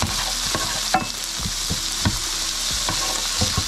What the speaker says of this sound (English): wait for the bacon to cook